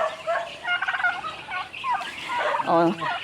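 A turkey gobbles repeatedly in rapid, warbling bursts, fairly close on a farm, with other farm bird calls mixed in.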